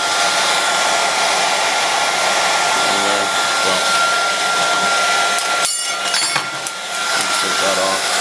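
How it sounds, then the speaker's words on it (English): A heat gun blows a steady, loud whoosh of hot air onto wrap during a 240ZX battery relocation, holding unbroken for most of the stretch with brief clinks and a short dip near the end. "it works so much better with a heat gun"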